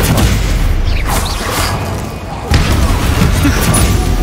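Spell casting in Hogwarts Legacy, Stupefy stunning spell: loud dense booming magic bursts with a sharp impact around midway, over continuous game ambience and music.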